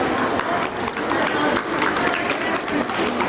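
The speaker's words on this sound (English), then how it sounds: "Inspiring speech with a big round of applause." Audience applause after a Republic Day speech, steady dense clapping across the whole stretch with a bit of crowd noise mixed in.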